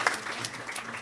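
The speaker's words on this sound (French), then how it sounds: "Je vais vous demander de ne pas applaudir pour chaque intervention." Applause from a conference audience at a talk on globalisation and workers' rights, a short, fairly soft burst of clapping with no voices over it.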